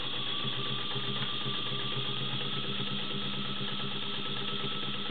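A vintage White model 265 sewing machine runs in reverse, giving a steady, close motor whir with a fast, even mechanical ticking of the needle mechanism and no pauses.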